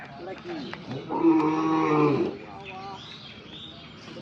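A cow lets out one long, low moo close by, with muffled voices and outdoor noise around it.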